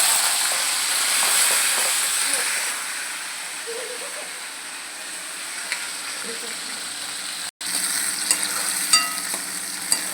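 Boiled peas fry in hot oil with bay leaf and cardamom for methi matar malai, a steady broadband sizzle with occasional stirring clinks and a brief cut near the end.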